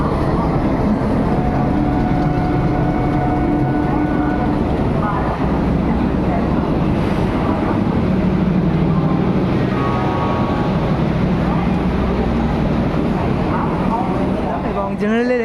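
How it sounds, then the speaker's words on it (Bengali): The Yoga Nagari Rishikesh train rolls along, heard from inside a general-class carriage: a loud, continuous rumble and clatter with tonal hums and passenger voices throughout. "এই হচ্ছে যোগনগরী ঋষিকেশ টুনে"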